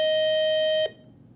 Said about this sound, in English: Is the buzzer working?